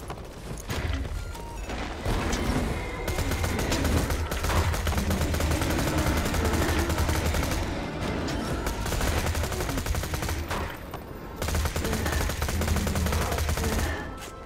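Automatic rifle fire in Borderlands 2, loud sustained bursts of rapid shots with a few short pauses, layered with game mechanisms and impacts over a dense, continuous background.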